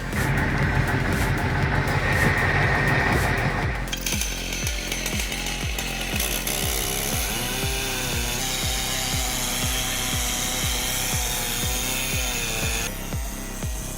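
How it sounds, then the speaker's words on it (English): A Stihl MS-880 chainsaw fitted with a 5-foot bar cuts through oak logs, its loud engine snarling steadily with rhythmic surges as the chain bites, then settling into a sustained high whine partway through. "The Stihl MS-880 is a total beast, especially with that 5-foot bar."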